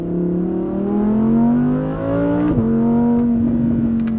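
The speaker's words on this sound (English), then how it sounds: "The way this NA V10 sounds, it's truly unique." A high-revving naturally aspirated V10 engine, from a 2018 Audi R8 RWS, wails steadily close by, its pitch climbing, briefly dipping as it shifts, then holding a loud, sharp howl.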